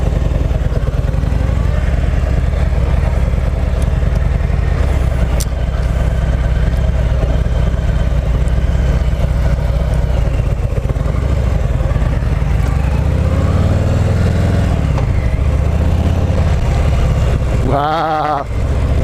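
A 2018 Harley-Davidson Heritage Classic 114 V-twin pulling away from a parking lot in first gear gives a steady, loud low engine drone throughout, with a brief rising rev and gear change near the end.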